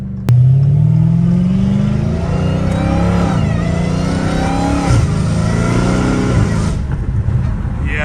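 A supercharged Dodge Hellcat Redeye revs hard, its engine roaring up and down in close, loud surges with a rising mechanical whine riding on top throughout.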